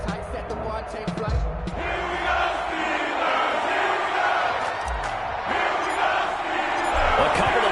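A stadium crowd roars in an NFL football video game before a Washington football team versus Pittsburgh Steelers matchup, a loud continuous cheer with swelling waves and low thumps mixed underneath.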